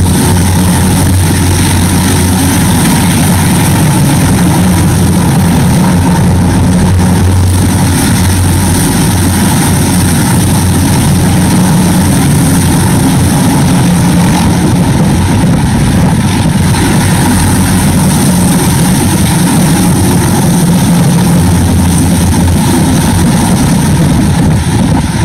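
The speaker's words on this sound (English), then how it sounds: "So there's like 4 different helicopters within the span of a minute flying down the street." Several helicopters fly low over a downtown Los Angeles street, producing a loud, unbroken, deep throbbing drone that fills the whole stretch without any break or talk.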